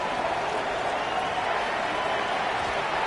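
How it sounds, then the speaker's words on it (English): A stadium crowd at a football game cheers after a field goal, a broad, steady roar of noise that holds level throughout with no break. "Not quite the same roar out of the crowd, Kate, that you're going to get with a touchdown, but still plenty of noise coming down"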